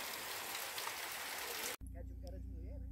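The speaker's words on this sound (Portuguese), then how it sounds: "Muita chuva aqui em Minas Gerais." Heavy rain pours steadily in Mirabela, Minas Gerais, as a dense, loud hiss that cuts off abruptly after nearly two seconds into a quieter, different scene.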